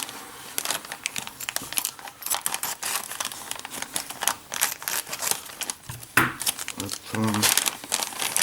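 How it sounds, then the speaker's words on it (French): Plastic packaging crinkles and tears as Eaglemoss Ecto-1 model parts are unwrapped, with dense crackling bursts close to the microphone and someone speaking briefly between them. "il va falloir qu'on déballe les pièces"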